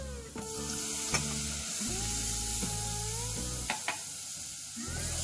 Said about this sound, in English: After sauteing the flour, and then the raw smell of the flour is gone, to this I'm going to add in the milk.